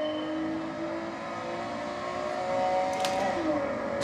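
Honda NSX from the nineties revving in Gran Turismo 7 during a licence time trial, a steady droning engine note that climbs and dips in pitch with a brief high whine near the end, moderately loud with no talk over it.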